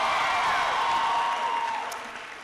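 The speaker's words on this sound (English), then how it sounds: "Give her a big round of applause." An audience at a college town hall event applauds steadily for a couple of seconds, a dense wash of clapping that fades toward the end.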